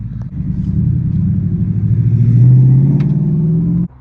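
Ford Mustang with a manual transmission pulling away, a deep close engine rumble that swells and climbs in pitch over several seconds before stopping abruptly.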